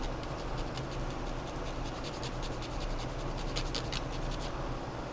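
Steady close scraping and rubbing as the edge of a plastic part from a Revell 1/25 Bronco model kit is chamfered, a continuous rasping texture with faint rhythmic strokes.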